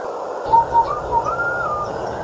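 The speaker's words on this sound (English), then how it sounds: "BJ whistled a little tune, and the wind whistled it right back." A short whistled melody of a few bright, clear notes over a steady background hiss, fairly close and moderately loud.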